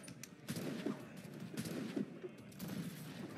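Gunfire in Assassin's Creed Rogue, a series of muffled, moderately loud shots and booms with rumbling low tones, recurring irregularly over a few seconds.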